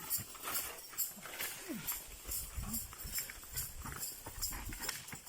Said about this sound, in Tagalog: Ang lakas ng kabayo.